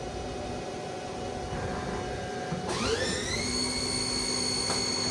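A 2006 HAAS SL-10 CNC lathe spindle whirs steadily at 1000 RPM with a high tonal whine, then its pitch sweeps upward as the spindle speeds up, close and continuous over a faint hiss.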